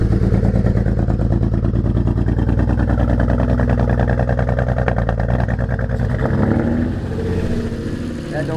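A heavily worn BMW 335i with catless downpipes idles roughly after starting, a loud, uneven, throbbing engine note with clattery pulses that fluctuates and dips toward the end.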